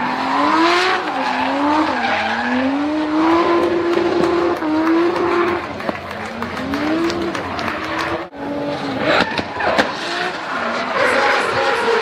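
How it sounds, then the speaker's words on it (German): A race car drifting at the Hockenheimring, fitted with a non-Nissan engine: loud, close engine revving that swoops up and down in pitch, with tire squeal throughout and no talking. "was wir hier hören, das ist in dem Fall kein Nissan-Motor"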